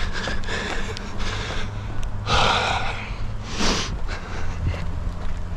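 Heavy breathing during an outdoor run in Japan, with rhythmic gasps and snorting exhales close to the microphone over a light background hiss.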